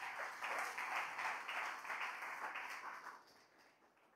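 A church congregation claps together as an offering to the Lord, a dense, even burst of applause that stays strong for about three seconds before fading away toward the end.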